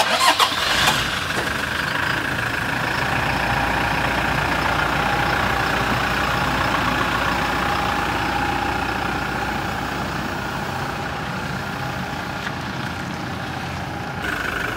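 A Fortuner 2022 SUV engine cranks and catches in a sharp burst, then settles into a steady, loud mid-pitched idle and rumble that eases slightly as the vehicle pulls away.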